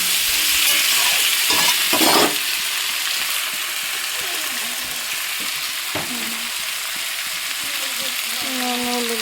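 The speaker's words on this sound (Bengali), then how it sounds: "পেঁপে আলু দিয়ে দিয়েছি, যে পেঁপে আলুটা কষানো হবে।" Papaya and potato fry and get stirred in a pan with a steady, loud sizzle, broken by a few scraping stirs near the start and middle.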